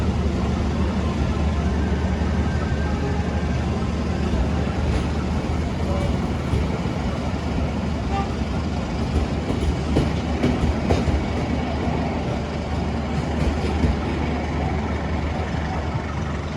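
KA Dhoho passenger train departing and running, a loud, constant rolling rumble with faint clickety-clack from the rails throughout.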